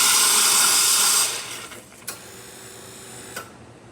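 Hot water running from the spout of a La Marzocco Linea Mini espresso machine, a loud steady hiss that cuts off after a little over a second, leaving quiet room tone with a couple of soft clicks.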